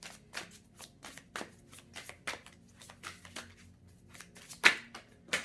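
A deck of tarot cards is shuffled by hand in a steady run of crisp riffling bursts, close and clear, about two per second, with one sharper snap near the end.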